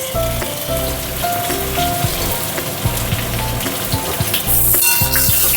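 Ridge gourd and potato fry in hot oil, giving a loud, continuous crackling sizzle with a dense rain-like texture that swells near the end.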